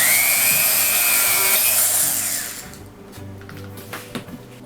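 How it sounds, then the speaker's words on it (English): A rotary sander or grinder shaping the wooden body of an acoustic electric Tele style guitar whines loudly for about two and a half seconds, then spins down, leaving faint scraping and handling noises. "I'm going to use a rotary sander or grinder and see if I can pull that in"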